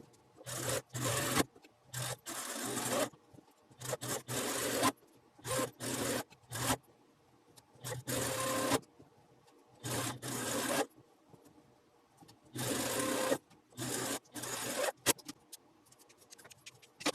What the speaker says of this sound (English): now we're going to just go to the sewing machine and we're going to stitch right along this line.